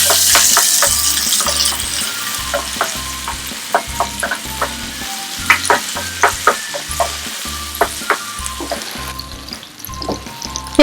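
Onions and bell peppers fry loudly in a pan for chicken jalfrezi, a constant sizzle broken by frequent clattering stirs of the spoon against the pan, close and with no voices.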